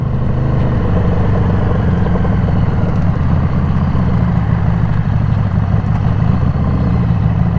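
A 2016 Harley-Davidson Street 500, modified in bobber style, is ridden on the road. Its engine gives a steady, loud, low drone that carries on without a break.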